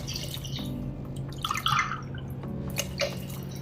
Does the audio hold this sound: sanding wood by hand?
no